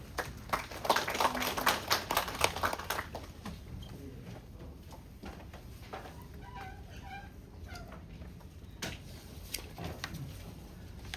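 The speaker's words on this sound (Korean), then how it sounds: "큰 박수 부탁드립니다." Applause from a forum audience in Jeju after a speaker is introduced, a burst of loud clapping for the first few seconds that thins to scattered claps, with a few more claps near the end.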